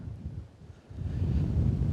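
Strong wind gusting across an exposed Scottish island bay, a low rumbling buffet that dips briefly then swells and holds steady and close.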